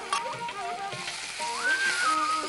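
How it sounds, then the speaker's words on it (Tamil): Ground masala sautéed in a pan gives a soft, steady sizzle with light stirring, and a faint whistling tone drifts over it in the background. "இந்த மசாலாவும் கொஞ்சம் வதக்கி விடலாம்."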